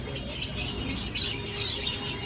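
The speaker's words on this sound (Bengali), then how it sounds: "এখানে অনেক পাখি আছে, অনেক পাখি, অনেক মুরগি, কবুতর" Birds at a bird market with parrots, pigeons and chickens give repeated high, sharp chirps and tweets over a dense, noisy background.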